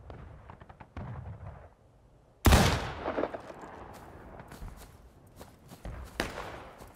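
Gunfire and blasts in a shooter video game, quiet movement sounds followed by a sudden loud boom and then scattered shots and thuds at a moderate distance.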